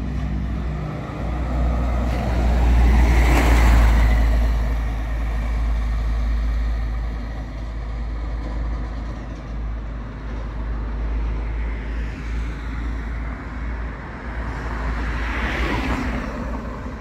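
A large coach bus's engine rumbles and idles nearby at a bus garage in Ribeirão Preto, Brazil, with a deep steady drone that swells briefly as it pulls in, amid background traffic.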